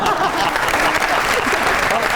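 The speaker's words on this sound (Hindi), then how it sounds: "काशी भाई के लिए तालियां।" A studio audience at a Pakistani comedy talk show applauds, producing dense, loud, continuous clapping across the whole stretch, with voices mixed into it.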